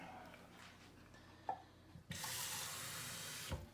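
Tap water runs into a can while salsa is being made, a steady broadband gush beginning a couple of seconds in and holding loud and close, preceded by a few clinks of the can.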